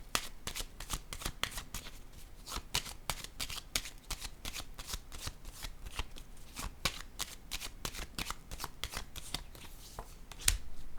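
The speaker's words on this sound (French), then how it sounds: "Je vais piger une autre carte." A deck of cards is shuffled at close range before another card is drawn. It makes a long run of quick, crisp riffling flutters with a brief louder knock near the end.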